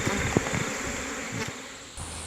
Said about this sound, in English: That's right, bees.